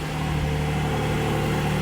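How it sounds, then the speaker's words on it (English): A Porsche 718 Spyder engine idles steadily nearby after a cold start, a low, even rumble with no talking. "Okay, that's a cold start."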